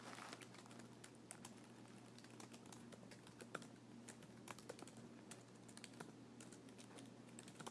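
Someone types text into the Pages word processor on a computer keyboard, producing a quiet, steady run of light key clicks over a low background hum, with no talking.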